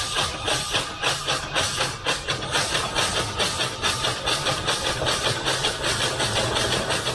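A 1926 Aveling-Porter steam road roller running, with a steady rhythmic chuff and hiss repeating about twice a second over a low mechanical rumble, close and continuous without talk.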